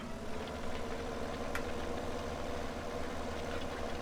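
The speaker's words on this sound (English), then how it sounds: "I think the Fendt tractor is powerful enough to do it." A Fendt tractor engine in Farming Simulator 17 drones steadily under load while pulling a Lincoln cultivator, a continuous mid-low rumble with a faint brief click partway through.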